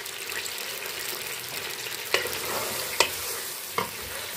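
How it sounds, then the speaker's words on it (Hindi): Chopped onions fry in hot oil for mutton korma, a steady broadband sizzle running throughout with three sharp utensil clacks against the pan near the end. "और प्याज को हमने फ्राई करना है अच्छे से।"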